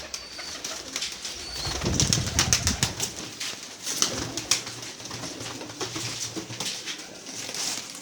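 Pigeons kept for sale coo close by, with rustling and brief wing flapping from the flock, loud and without speech.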